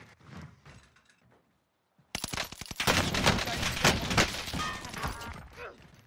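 Rapid gunfire in the Warzone video game, heard as a dense, loud burst of repeated shots and clattering action. It starts abruptly after a short quiet stretch and continues to the end, following faint talk at the start.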